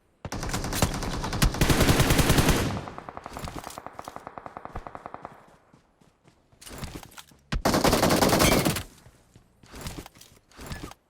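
Loud automatic gunfire from the PUBG Mobile video game crackles in rapid bursts, a long sustained volley followed by sparser shots, pauses and two more dense bursts, with faint scraping in the gaps.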